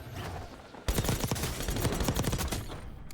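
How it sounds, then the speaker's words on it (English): Gunfire in Call of Duty Warzone, a low background hum broken by a sudden burst of rapid automatic shots that continues as a fast rattling stream of close, loud reports for about two seconds. "I hear somebody like shooting on the roof."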